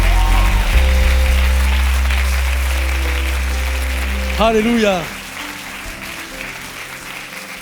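A church congregation in Paris breaks into loud, sustained applause that fills the room. A single voice rings out in an exclamation near the end before the clapping thins and fades.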